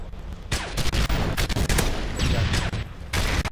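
Dense, rapid automatic gunfire in a Call of Duty–style shooter game, loud and continuous with brief pauses between bursts.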